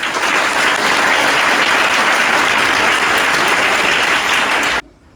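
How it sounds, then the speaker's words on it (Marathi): Gathering at a school kit distribution event gives loud, vigorous applause for Poojatai, a dense continuous roar of clapping that cuts off abruptly near the end. "आपण जोरदार टाळ्या वाजवून या ठिकाणी पूजाताईंच्या ठिकाणी"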